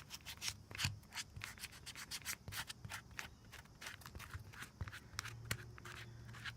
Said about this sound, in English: when you scuff it up, it just gives the paint something to grip too